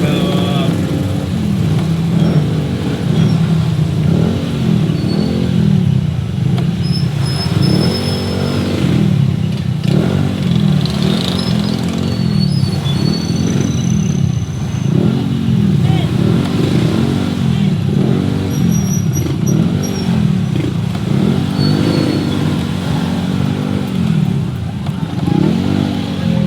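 Street traffic of cars and motorcycles rumbles steadily and loudly throughout, with a pulsing engine drone that rises and falls in a rhythmic cycle and occasional clattering and higher whines on top.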